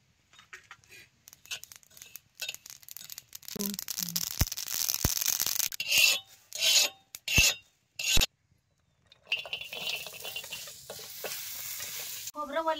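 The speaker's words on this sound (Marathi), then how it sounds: "आता हे तीळ बी या तव्यात भाजून घ्यायचं" Sesame seeds roast on a griddle over a wood-fired clay stove, heard as intermittent bursts of rasping, scraping stirring and light sizzle separated by short pauses, close and fairly loud.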